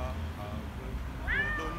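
A house cat lets out a single rising meow near the end, fairly close, over a low indoor background hum; someone speaks softly to it around the sound.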